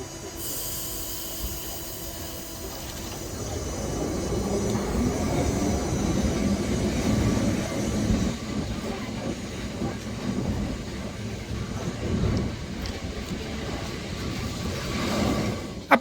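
Lisbon's line 28 tram runs on its rails with a steady low rumble and rolling wheel noise, plus faint squeal and clatter, continuous and fairly close for the whole stretch.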